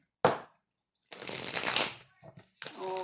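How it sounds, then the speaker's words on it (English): Tarot cards shuffled by hand, a sharp riffle snap followed by a longer papery shuffle and a few softer taps, close and clear in a quiet room, with a voice briefly at the end. "One more shuffle."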